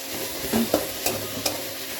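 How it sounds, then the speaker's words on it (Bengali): Onions frying in a pan with chilli and spices, bay leaf added, a soft continuous sizzle with a few stirring clatters and scrapes of the utensil, close up and steady. "এখন লাল লাল করে পেঁয়াজ ভাজি"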